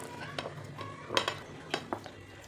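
A spoon stirs cardamom and nutmeg powder into sweet puran filling in a metal pot, giving light scraping strokes and a few sharp clinks against the rim, close and fairly quiet, with no talking.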